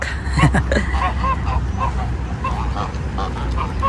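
Geese in a park honk in short nasal calls over steady outdoor background noise, while a person talks nearby.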